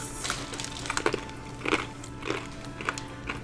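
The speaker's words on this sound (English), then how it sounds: "Yes, this is going to be very crunchy on camera." Crunching of confeito sugar candy, a series of sharp, close bites and crackles spaced roughly every half second, loud and dry against a quiet background.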